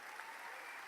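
A church congregation claps together in a brief, faint burst of dense, even applause with no voices over it.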